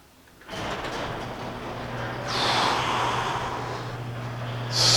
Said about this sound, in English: hit both garage door openers.